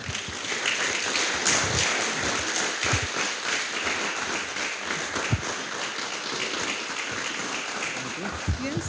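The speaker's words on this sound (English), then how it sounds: "You can give her another round of applause, a little harder." Audience applause fills the clip, a dense, steady patter of many hands clapping at moderate volume.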